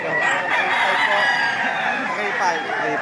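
An 11-month-old home-raised rooster crows loudly and close by, one sustained crow over other poultry chatter, with faint voices in the background.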